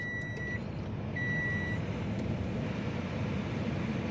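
A truck passes in steady low road rumble, with two short bursts of high reversing beeps near the start and a continuous broad drone throughout.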